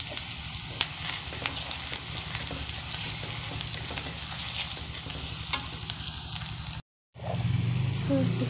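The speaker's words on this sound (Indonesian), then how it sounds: "Kita tumis bawang bombaynya sampai layu." Onions are sautéed in hot oil in a pan, giving a steady close sizzle and crackle with occasional clicks, briefly cut off near the end before resuming.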